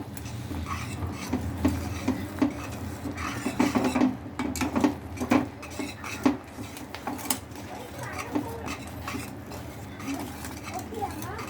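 Roasted flour stirred in a pan over low heat for black rice and black urad dal kali, giving soft scraping and rubbing against the pan, with faint clinks and background speech throughout.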